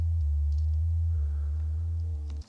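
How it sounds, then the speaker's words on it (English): Serum soft-synth sub bass from the Best Sub Ever preset in Julian Jordan's Serum pack, a deep, clean, sustained low tone that holds steady and loud for about two seconds before cutting off, with no voice over it. "For the main sub bass, I'm using Serum now. This is a preset you can find on Julian Jordan's Serum pack"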